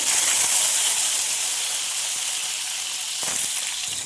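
A steady, loud sizzle of chopped onions frying in hot oil, with a brief burst of crackling partway through and no voices.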